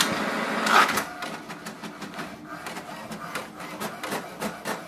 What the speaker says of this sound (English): So that is quick, it has started to print.